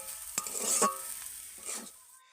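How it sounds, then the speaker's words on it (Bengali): A spoon works a filling around a frying pan, making a few soft scraping strokes over a faint sizzle, quiet and close, with no talking. "আরও একটু নেড়ে আমি পুরটাকে টাইট করে নেব একটু নরম রয়েছে আর একটু টাইট করে নিতে হবে নেড়ে নেড়ে"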